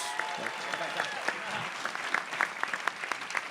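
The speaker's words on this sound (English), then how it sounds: "a big round of applause for Josh Widdicombe, who's helmed all 4 of these shows" Sustained audience applause at a live comedy podcast recording at the Edinburgh Fringe, honouring host Josh Widdicombe; a broad, even wash of many hands clapping, slightly distant, with scattered sharper claps standing out.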